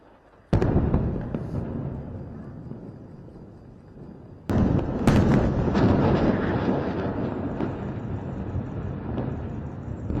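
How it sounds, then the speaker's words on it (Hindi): Israeli air strikes hit Beirut, with two heavy, sudden blasts a few seconds apart. Each is followed by a long, rumbling roar of debris and echo that fades slowly. "इजराइल की एयर स्ट्राइक में हिजबुल्लाह के कई ठिकाने तबाह हो गए हैं।"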